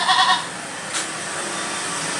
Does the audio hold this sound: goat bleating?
yes